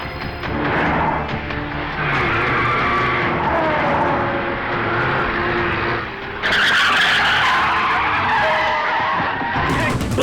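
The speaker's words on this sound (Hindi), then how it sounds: "वो देखो उसकी गाड़ी, जरा देखो पीछे आ रहा है क्या?" Car skidding in an action movie chase, with long screeching tire squeals over engine roar. The sound is loud and close, and it swells into a brighter burst partway through.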